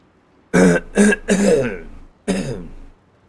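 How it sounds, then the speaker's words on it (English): A person coughs or clears their throat in several sharp bursts, three close together, then one more after a short pause, close and loud. "Sorry, I had to cough."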